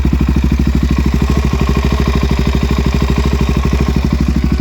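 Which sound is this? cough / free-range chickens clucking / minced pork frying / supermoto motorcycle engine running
supermoto motorcycle engine running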